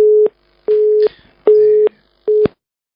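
Telephone busy tone after a dropped call: four evenly spaced steady beeps, each with a short silent gap between, clear and alone with no talk.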